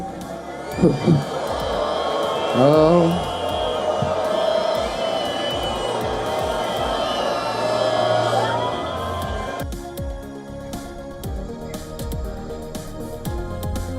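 A crowd at a rally in Tel Aviv cheers, with whoops and shouts rising over a dense, loud roar before it thins into scattered clapping; a voice briefly exclaims.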